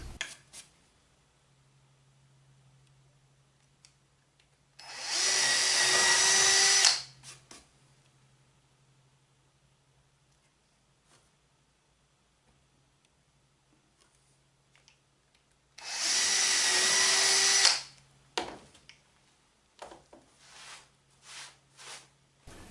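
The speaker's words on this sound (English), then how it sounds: "create 4 pilot holes in the center of the paddle boards" A power drill bores pilot holes into wooden water wheel paddle boards in two separate bursts of a couple of seconds each, with quiet pauses and light handling clicks between them.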